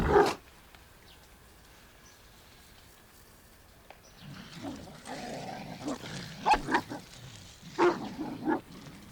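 A pack of African wild dogs in the Maasai Mara gives bursts of yips and growling calls. A single sharp call opens the sequence, then comes a quiet stretch. Overlapping calls follow, close and moderately loud.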